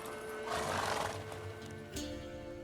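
A horse in a video game gives a short whinny over steady game ambience, with faint hoof clip-clop, a quiet voice line and a thump near the end.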